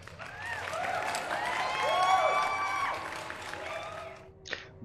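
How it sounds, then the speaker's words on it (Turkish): A burst of applause and light cheering from a small crowd fills the room, then dies away near the end. "Kebap için bir alkış."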